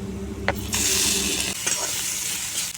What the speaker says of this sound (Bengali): জিরা গুঁড়া, লঙ্কা গুঁড়া দিয়ে এখন কষিয়ে নেব।